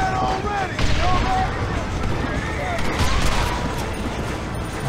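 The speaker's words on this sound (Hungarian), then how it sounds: "ez már dobálta a dinamitot" Dynamite blasts go off in Red Dead Redemption, two heavy booming bursts about two seconds apart over a constant rumbling game backdrop.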